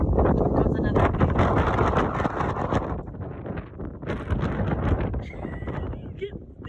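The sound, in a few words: strong wind blowing outdoors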